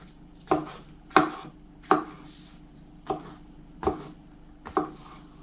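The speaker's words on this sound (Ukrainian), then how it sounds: "Нарізаю грибочки" Six sharp knife chops through mushrooms on a cutting board, evenly spaced about two-thirds of a second apart, close and crisp with brief quiet between strikes.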